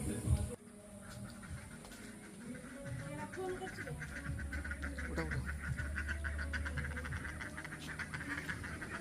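Ducks quack softly and repeatedly while being fed, forming a faint, steady chatter with a low background hum throughout.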